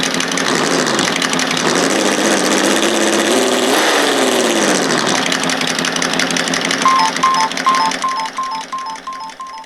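A Meus Racing sound controller in a TRX-4M Defender crawler gives out a simulated engine sound, a loud steady idle that rises briefly in revs, then switches to a different, higher ticking tone that fades toward the end, with no voices.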